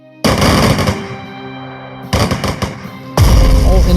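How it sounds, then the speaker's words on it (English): Artillery, infantry and tank attacks in the strategy game Strategic Mind Blitzkrieg: three loud bursts of rapid booming gunfire and explosions, each cut off abruptly, the last heavier and deepest. "Select the artillery and attack the enemy. Now proceed in a similar manner with your infantry and tank."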